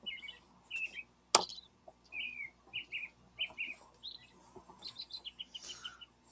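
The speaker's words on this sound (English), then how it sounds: "then we stop and hear the birds. You hear the birds." Several birds chirp and sing in short, separate phrases at moderate distance, with one sharp nearby click partway through and a quiet background.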